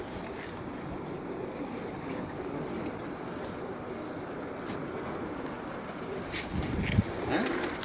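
Pigeons are let out from a rooftop at night in Faisalabad, with a dense, steady rush of fluttering and soft bird sounds swelling briefly near the end over a constant background hiss.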